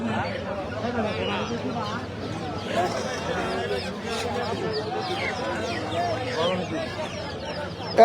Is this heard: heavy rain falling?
no